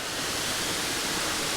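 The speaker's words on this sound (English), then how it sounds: "that's pretty good for a waterfall, eh?" Waterfall on a rainforest hike near Lake Crescent, heard as a steady broadband rush of falling water, moderately distant and unbroken for the short stretch.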